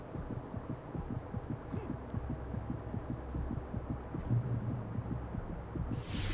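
A slow, steady low-health heartbeat thumps in Alan Wake Remastered, a dull pulse repeating over a faint hum with no talk on top.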